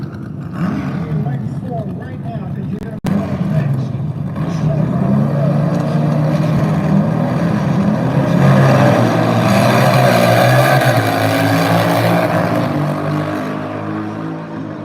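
Nitro drag racing motorcycles at an AMRA Michigan Nitro Nationals event at US 131 Motorsports Park, a loud sustained engine roar after a sharp crack, with an announcer talking throughout.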